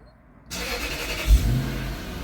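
A Lexus SC430 engine cranks and catches after a quiet moment, then settles into a steady, close idle with a brief low surge as it fires.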